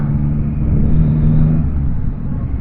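Steady, loud engine rumble from a vehicle with four exhausts, a low droning idle or cruise that holds constant throughout with no voices.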